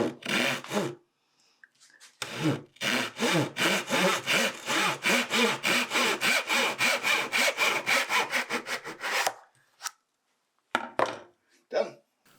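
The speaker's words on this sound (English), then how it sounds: "now what we're going to do is we're going to cut the pieces apart because they need to come apart." A hand saw cuts apart wooden pieces of a mitre-jointed pencil box in fast, rhythmic back-and-forth strokes, a dense run of rasping passes that stops, then a few last scattered strokes close to the microphone.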